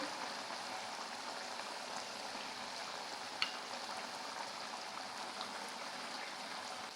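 Butter chicken masala bubbling in a pan, a steady soft simmering hiss with faint pops and one brief sharper tick midway, close and even throughout, no voices.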